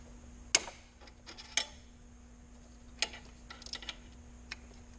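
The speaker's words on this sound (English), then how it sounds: "grabbed another wrench here so I could have some leverage." Wrench working a bolt during a thermostat replacement on a Ford Focus 2.0 Zetec: a few sharp, separate metallic clicks and ticks, fairly faint and close, spread out with quiet gaps and no talking.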